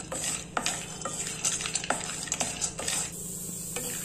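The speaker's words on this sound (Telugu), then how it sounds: "కిస్మిస్ అంతా బాగా రోస్ట్ చేసుకోవాలి ఫ్రెండ్స్." Raisins roast in a pan on low heat for a dry-fruit laddu, with close, repeated scraping and clinking of a spoon stirring over a soft, continuous sizzle.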